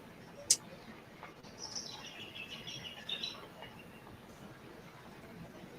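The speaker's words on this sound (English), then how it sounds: "Can hear the birds." Birds chirping faintly in the distance near a disused railway, with a sharp click near the start and soft crackling from a nearby fire underneath.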